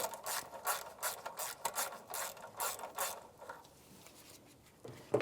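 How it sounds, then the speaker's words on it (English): Clamps on the air breather tube of a 1992-1996 Ford F-150 are loosened with a ratchet, giving a quick series of close clicking strokes in bursts, then a pause and one final click. "Just need to loosen the clamps up so that the air breather tube can come off."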